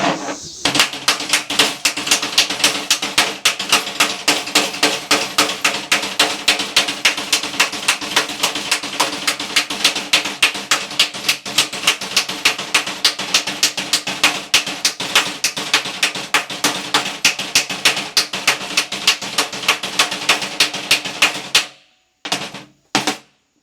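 A big hammer strikes a junk saw blade in a rapid, steady run of sharp metallic blows for over twenty seconds, loud and close, then stops with a couple of final hits.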